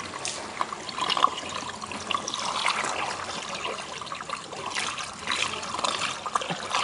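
Water pours and trickles steadily into a storage container, a continuous splashing stream close by with no talking.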